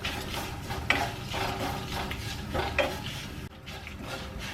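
Dried red chillies, coconut and shallots roasting in a pan for a Kerala-style varutharacha kadala curry, with continuous scraping stirs and occasional metal clinks over a soft sizzle.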